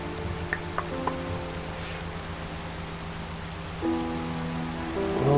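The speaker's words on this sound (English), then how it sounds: "Okay, it's raining again." Rain falling in the Minecraft video game, a steady soft hiss of rain on surfaces with faint droplet ticks, under sustained background music tones.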